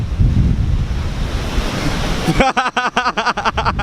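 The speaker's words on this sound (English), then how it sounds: "We're at Long Beach. We're at the beach right now" Ocean surf and wind on the beach at Long Beach by the boardwalk: a steady, loud roar of breaking waves with heavy wind buffeting the microphone, turning into choppy gusting bursts near the end.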